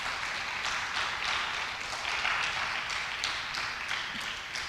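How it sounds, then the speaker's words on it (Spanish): Applause from a church congregation during a Spanish-language sermon, a steady, moderately faint wash of clapping that continues without break. "¿Alguien puede darle un aplauso al Señor?"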